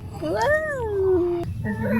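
A cat meows on a farm, two drawn-out rising and falling cries followed by a shorter call, close and fairly loud.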